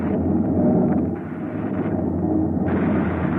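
A rocket blast from an old science-fiction radio drama sound effect: a loud, continuous, rushing roar with a narrow, vintage-recording tone that holds steady for several seconds, with no voices.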